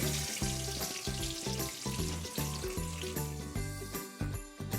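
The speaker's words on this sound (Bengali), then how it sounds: "এবারে পটলগুলোকে ভালো করে ভেজে নেব।" Pointed gourd (potol) pieces rubbed with salt and turmeric fry in hot oil in a pan, giving a constant close sizzle and crackle with faint pulsing bubbling underneath.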